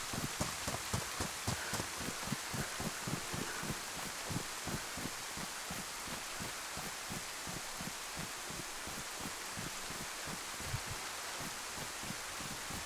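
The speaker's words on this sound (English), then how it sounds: "Let's just get out of the rain." Steady rain in DayZ, a dense, continuous hiss of falling drops with a soft pattering rhythm throughout, close and even in level with no talk.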